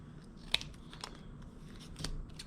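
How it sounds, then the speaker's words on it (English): Scissors cut through paper while an alien-head shape is trimmed out for a craft project, giving faint crisp snips spaced about half a second apart over a low background hiss. "I'm just going to cut this out"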